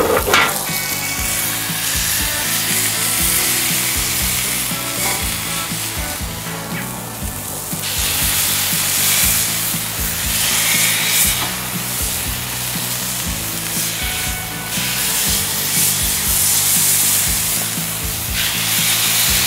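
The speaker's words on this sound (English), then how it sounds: "So we're going to do two patties in this smash burger. Okay, so let's put those on the griddle." Two smash burger patties sizzle steadily on a hot griddle, a loud, continuous hiss and crackle that holds for the whole stretch without talk, over a low rhythmic background pattern.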